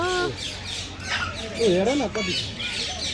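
Birds squawk and call in the bird zone of Central Zoo, Nepal, in a few short bursts mixed with people talking close by over steady crowd noise.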